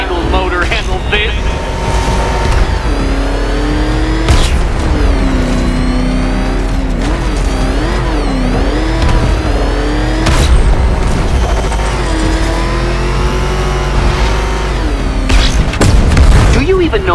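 The Batmobile in Batman Arkham Knight roars and revs loudly during a race, its engine pitch sweeping up and down through gear changes over a continuous heavy rumble, with booming impacts near the start and end.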